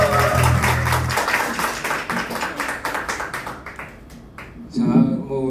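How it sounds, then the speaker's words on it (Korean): Audience applause at a live concert, a dense patter of clapping that is strongest at the start and gradually thins out. A voice comes in briefly near the end. "박수 한번 주시죠."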